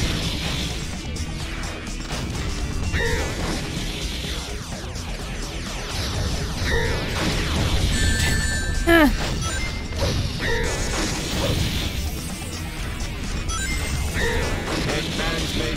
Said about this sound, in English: Rockets detected nearby.